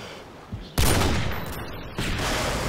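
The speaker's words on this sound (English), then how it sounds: "The rapid fire mini Uzi, that's how it's done." Rapid bursts of mini Uzi fire from the video game Modern Warfare 2, loud and close, with a dense stream of shots starting abruptly and a second burst kicking in moments later.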